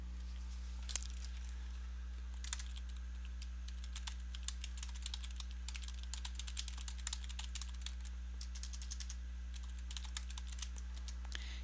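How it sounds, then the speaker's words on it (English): Computer clicks from someone playing Hay Day: sparse, irregular taps and clicks over a steady low electrical hum, fairly quiet and close, with no one talking. "Guess you can hear me clicking away there."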